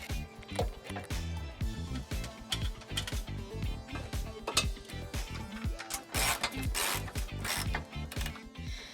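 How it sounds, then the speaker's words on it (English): A 12mm socket ratchet removes bolts from the underside of a 2019 Toyota C-HR during trailer hitch installation, giving a busy run of close, repeated mechanical clicks and clatter. "We will be using a 12mm socket to remove those bolts."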